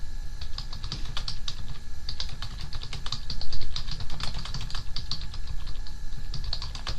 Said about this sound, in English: I'm gonna pause this while I finish typing this